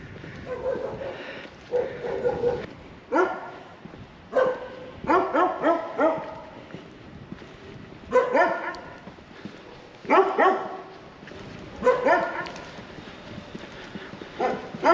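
A dog barks in repeated short bursts over about fifteen seconds, clustered volleys of sharp, fairly close woofs separated by brief pauses, with no talk.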